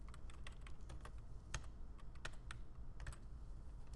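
Typing on a computer keyboard, quick irregular clicks and taps in short bursts, close but quiet, with no voices over it.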